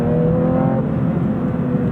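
Porsche 992.2 GT3 Touring engine rising and falling in a steady, close, loud drone, its harmonics shifting briefly as it is blipped through a heel-toe downshift.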